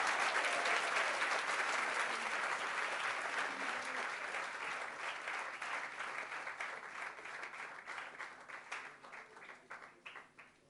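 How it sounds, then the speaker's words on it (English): An audience at a Krishna Janmashtami celebration gives a long round of applause. The clapping is loud and dense at first, then thins out and fades toward the end. "A loud round of applause, please."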